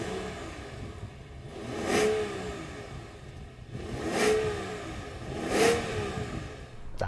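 A BMW 760Li's V12 engine revs while the car sits stationary, three distinct rising and falling blips spaced a couple of seconds apart over a low idle, heard close and fairly loud.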